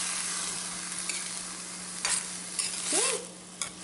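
Red cabbage sautéing in a pan for a vegetable clear soup, a soft steady sizzle under a low hum, broken by a few brief stirring scrapes.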